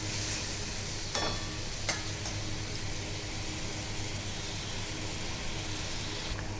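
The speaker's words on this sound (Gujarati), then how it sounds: "આ વઘારને આપણે 2 થી 3 મિનિટ માટે ઉકળવા દેવાનું છે" A Gujarati tempering with a bowl of buttermilk bubbles and simmers in a pan for sour mango dal, a steady close hiss and fizz with a couple of brief clicks.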